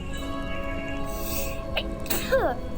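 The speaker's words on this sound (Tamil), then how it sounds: "ஒன்று தும்மல் வருது" A sneeze bursts out near the end, loud and close, over a steady hum of game background music in a Roblox session.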